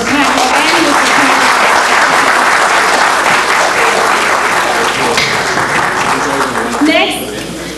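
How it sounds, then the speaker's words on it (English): A symposium audience gives a sustained round of applause for two honorees. The dense clapping stays loud and even for about seven seconds, then thins. A voice briefly comes through near the end. "I'd like you all to join me in a round of applause for Mr. Packer and Mr. Packer."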